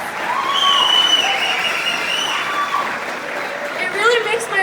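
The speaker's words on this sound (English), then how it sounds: "Give yourselves a round of applause" Audience at an Iraqi community evening abroad applauding and cheering, sustained clapping with scattered whoops and shouts rising and falling, voices calling out over the crowd.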